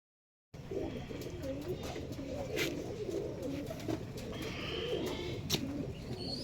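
A pair of pigeons nesting in a tree coo steadily with low, rolling calls and a few faint chirps, moderately close, with no talk.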